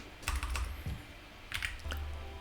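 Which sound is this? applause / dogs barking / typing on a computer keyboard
typing on a computer keyboard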